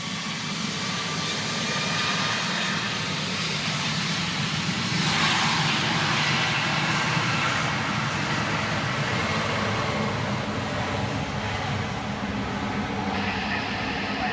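A jet airliner's engines roar steadily during a takeoff roll from runway 09 in Barbados, a loud, continuous broadband rumble with a brief swell midway and no voices.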